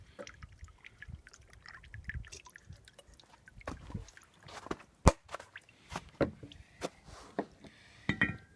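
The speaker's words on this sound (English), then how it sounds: "just dump a bunch of it into the fuel bowl until it overflows" Waste oil dumped into an oil burner's fuel bowl until it overflows, close irregular drips, splashes and trickles with scattered sharp knocks, fairly quiet, no talk.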